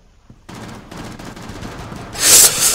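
Rapid automatic gunfire from Rainbow Six Siege rattles in a steady burst, then a louder, harsher blast swells near the end.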